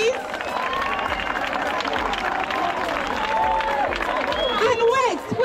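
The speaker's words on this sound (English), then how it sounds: "And give a round of applause for Aissatou Sise." A school audience at an Albert Academy back-to-school session in Sierra Leone claps and cheers in a loud, continuous round of applause, with voices calling out and talking throughout.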